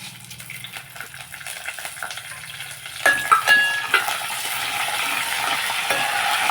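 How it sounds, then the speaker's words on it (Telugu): Tempering seeds drop into hot oil in a small pot for a lentil broth, bursting into sudden loud crackling sizzles that settle into a steady, close frying hiss. "ఇప్పుడు తాలింపు గింజలు వేసుకుందాం మనం"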